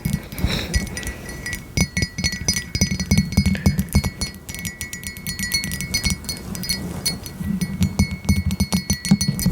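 A mug set down on top of a microphone, giving repeated close, bright clinks and light taps over a low rumbling handling noise, with no talking.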